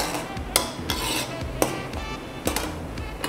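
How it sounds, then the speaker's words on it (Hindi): Drumstick soup being stirred after black pepper and lemon juice go in, a spoon knocking and scraping against a metal pot in a handful of distinct clinks over a low rumble, close and without speech. "अब इन चीज़ों को हम अच्छे से एक बार मिक्स कर लेंगे"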